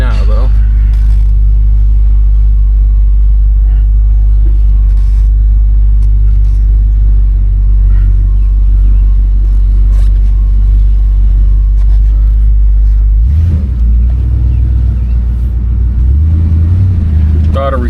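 A 1969 Ford Fairlane's engine runs with a loud, steady low rumble as the car drives on a wet road just after rain, the note shifting and rising near the end as it gets throttle, with talk over it.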